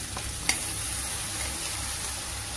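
Masala spices with cumin, mustard seeds and curry leaves fry in a hot pan for matar paneer, a steady close sizzle with a brief sharp stir clink near the start.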